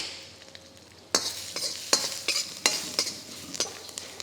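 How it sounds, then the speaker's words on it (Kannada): Tempering of mustard seeds, urad dal, cumin, curry leaves and asafoetida for a chutney bursts into loud sizzling in hot oil, with sharp crackles and repeated stirring scrapes against the pan. "ಒಗ್ಗರಣೆ ಹಾಕ್ತಾಯಿದ್ದೀನಿ"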